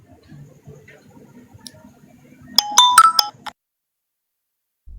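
A phone ringtone plays a short burst of bright, repeated tonal beeps, loud and close, and cuts off abruptly after quiet murmuring voices in the background.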